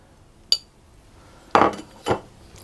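Cooked onions being spread over a cheese and onion pie base, heard as a sharp utensil tap followed by two short scraping clatters of metal against the dish.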